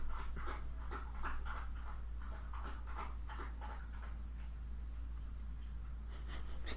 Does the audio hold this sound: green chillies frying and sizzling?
no